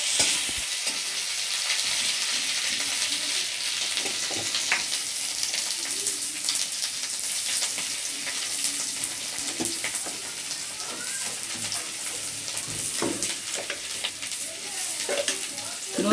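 Two pieces of potato frying in oil in a home kitchen, a continuous close crackling sizzle with scattered sharp pops and no talk.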